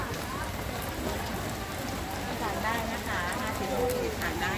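Steady rain falls on a busy market during a storm, a continuous close hiss and patter with people talking over it.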